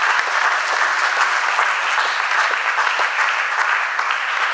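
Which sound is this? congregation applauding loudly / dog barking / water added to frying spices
congregation applauding loudly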